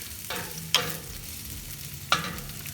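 Onions sauté in hot oil in a pan with a quiet, even sizzle, punctuated by two sharp scrapes or taps of a spoon against the pan.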